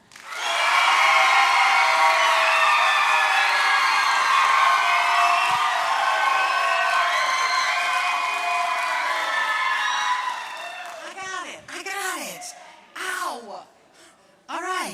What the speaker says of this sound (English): So if you want to vote for the Troy High Concert Choir, ready, set, applaud.